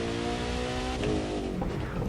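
A car drives in the racing game The Crew 2, heard from the cockpit view: a steady engine drone with some revving, continuous and fairly loud, with no talk over it.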